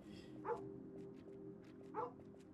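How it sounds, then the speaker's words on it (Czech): Dog barking in the Kingdom Two Crowns video game, two short barks about a second and a half apart, moderately loud over a steady low game music bed. "Pes štěká."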